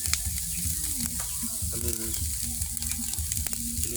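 Chicken and a large fish grilling over heat, a close, steady crackling sizzle with small pops throughout, with brief speech over it.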